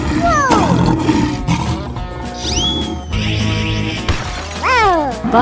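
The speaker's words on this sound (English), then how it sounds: "Lioness." A lioness in a 3D animal slide video game lets out a few loud, falling roar-like calls. They come amid lively game music and crashing, shattering effects.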